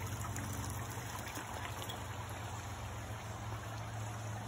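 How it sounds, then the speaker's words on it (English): A small waterfall on Mount Orford in Quebec, carrying very little water, gives a faint, steady trickle under broadband outdoor noise. "So very little water in the waterfall."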